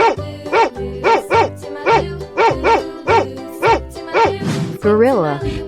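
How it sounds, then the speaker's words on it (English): Repeated cartoonish dog barks from a 3D animal slide video game sound in a steady rhythm of about nine loud bow-wows over backing music, ending in a rising whine-like yelp. "Dog."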